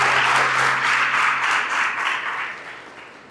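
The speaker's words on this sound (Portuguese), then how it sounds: "Vamos dar uma salva de palmas para a palavra de Deus." A congregation at a Catholic service claps together in a full, loud burst of applause that holds steady before fading away toward the end, with a faint low hum underneath.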